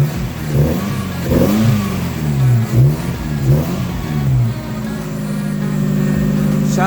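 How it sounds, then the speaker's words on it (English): A 1993 Mazda Miata NA engine fitted with CX Racing UEL headers runs close by, its note rising and falling through several revs before it settles into a steady, rumbling idle. "But headers are installed. They've been running a little bit."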